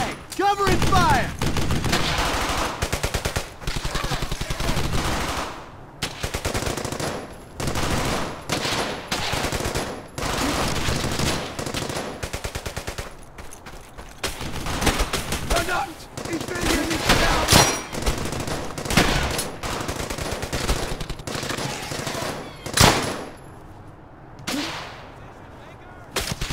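Machine gun fire in the World War II shooter Brothers in Arms: Hell's Highway, with dense, sustained bursts of rattling gunfire and heavy shots, loud and close, and soldiers shouting over the battle.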